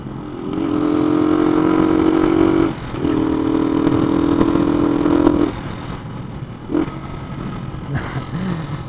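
A Honda CG motorcycle fitted with a Koso carburetor runs at speed with a steady buzzing engine note that cuts out abruptly twice, then falters and surges briefly, close and fairly loud.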